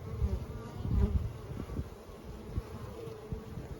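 Honeybees buzzing around an open Langstroth hive during a spring inspection, a dense, close hum with individual bees droning past over low rustling.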